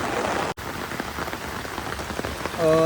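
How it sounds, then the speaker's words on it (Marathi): Heavy rain pours steadily onto a surface in a dense, continuous hiss, with a brief dropout early on and a faint tonal hum near the end. "पाऊस भरपूर डेंजर आहे"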